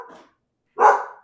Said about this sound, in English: Oh, somebody's walking their dog.